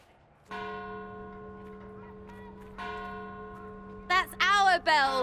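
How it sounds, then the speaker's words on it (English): Church bells in Dragon Age: Inquisition ring out in two loud, sustained strokes that hang and ring on. Cheering voices cut in at the end. "That's our bells"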